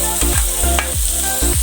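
Food fries and sizzles loudly in a pan, close up, with a steady hiss throughout. Repeated scraping stirs come at a regular rhythm about every half second.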